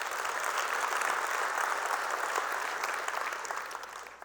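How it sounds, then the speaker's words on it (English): A conference keynote audience applauds, a dense sustained round of clapping across the hall that holds steady and then tapers off toward the end. "I want you to give a round of applause to yourself for being here today."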